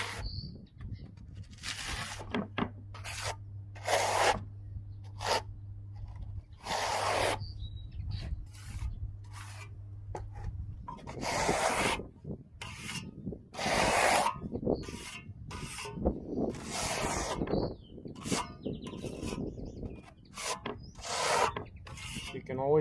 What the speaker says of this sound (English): I apply using the flexible trowel.